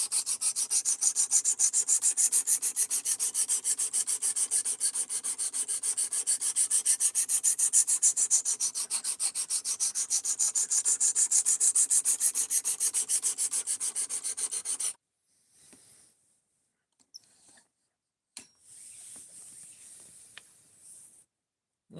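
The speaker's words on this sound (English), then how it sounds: "we're on our 4th sharpening, just trying to hog a bunch of material off and maybe get past the burned edge" A D2 steel knife with a burned edge is ground hard on a sharpening stone, a loud steady rasping rub lasting about fifteen seconds, then scattered short strokes and quiet pauses.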